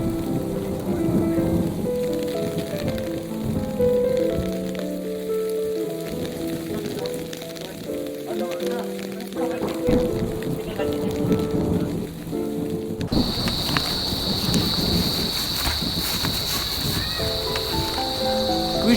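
Steady rain falls through a thunderstorm, with a low rumbling swell in the background; partway through, a bright hissing downpour layer sharply takes over, continuous and moderately loud with no voices.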